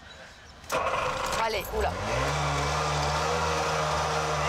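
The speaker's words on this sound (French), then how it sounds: "Więc włączam silnik. Przygotuj się, będzie głośno." A small engine cranks and starts after a brief clatter, then settles into a loud, steady idle; a voice speaks briefly as it catches.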